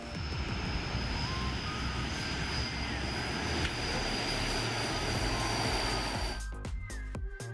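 A fixed-wing aircraft roars loudly and steadily as it comes in to land on an aircraft carrier, the engine noise holding near and constant before cutting off abruptly near the end into scattered clatter.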